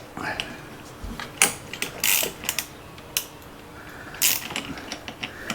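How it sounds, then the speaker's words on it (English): A bolt being removed from a Honda Goldwing headlight, with faint close ratchet clicks and mechanical clacks coming in short irregular bursts over quiet background. "Just take this bolt out."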